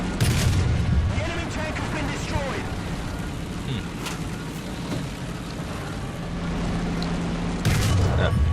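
A Matilda or A33 Excelsior tank gun fires in War Thunder, a heavy boom at the start with another loud blast near the end, over rumbling engine noise and someone talking throughout.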